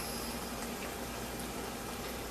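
Liquid nitrogen boils off in a steady, even hiss and bubbling during a cryo transfer, a faint continuous sound with no pauses or voices.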